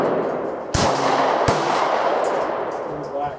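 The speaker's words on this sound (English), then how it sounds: "I'm going to take some shots at Barrett's target on the top left." Two sharp 9mm shots from a Boberg XR9-S pistol fired at a target, loud and close, spaced under a second apart.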